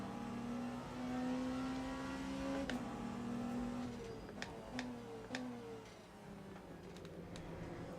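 WEC endurance racing cars in a video game, a close engine droning and climbing through the gears as it runs alongside a Ferrari, with faint ticking clicks at intervals and no talk.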